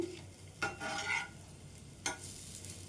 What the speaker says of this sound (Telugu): ఒకవైపు అయితే వేగేయండి రెండో వైపు తిప్పేసుకుందాం